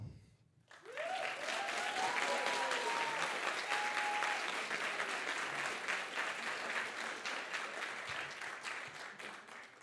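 An audience welcoming speaker Irene Perbal with sustained, dense applause that starts abruptly and stays full and even for several seconds, with a faint voice briefly audible early on.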